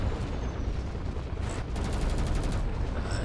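Ship weapons firing in the space combat game Fractured Space, a dense rumbling barrage with a rapid string of repeated sharp bursts in the latter half, loud and continuous without talk.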